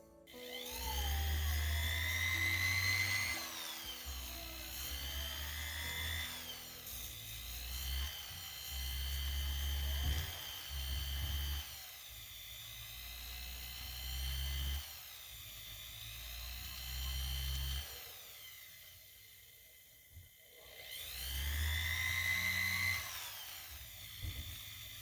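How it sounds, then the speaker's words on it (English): A rotary tool spins a knife-edged pumice wheel against a sterling silver pendant around a flush-set gemstone, whining in high, steady bursts that rise and dip as pressure changes, with short pauses between passes. "now I'm going to use a knife-edged pumice wheel to remove the scratches around the gemstone"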